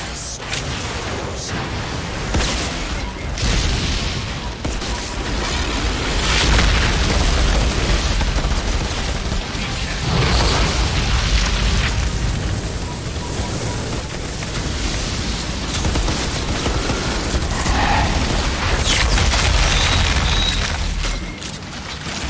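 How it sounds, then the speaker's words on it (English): Fire tornado skill in the video game Outriders: a sustained roaring, rushing blaze with rumbling booms and bursts, loud and continuous, with combat noise mixed in. "Fire tornado."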